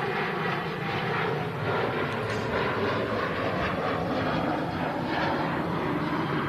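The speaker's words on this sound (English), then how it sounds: "Doing a flight on behalf of KLM. 737-700." A Transavia Boeing 737-700 jet flying on behalf of KLM at Manchester Airport, a steady moderate engine roar that holds even throughout, heard alone.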